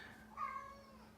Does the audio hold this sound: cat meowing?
yes